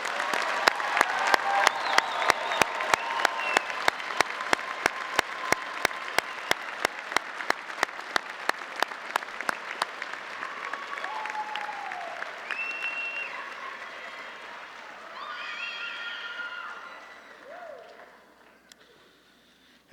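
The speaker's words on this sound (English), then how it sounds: "Why don't you join me in one more big round of applause for these 2025 graduates." Commencement audience applause for 2025 graduates at a university fall ceremony: sustained, loud clapping in a large hall with distinct near claps, gradually thinning after about ten seconds, followed by scattered tones and background sounds.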